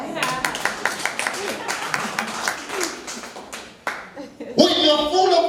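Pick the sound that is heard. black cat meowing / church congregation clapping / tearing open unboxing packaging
church congregation clapping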